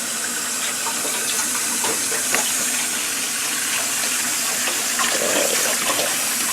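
Tap water runs steadily into a cooking pot being filled to blanch collard greens, a continuous hissing splash with no talking.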